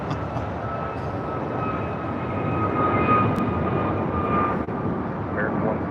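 Jet airliner taking off from runway 25 right at LAX, a broad steady roar with a faint whine above it, loud and sustained throughout.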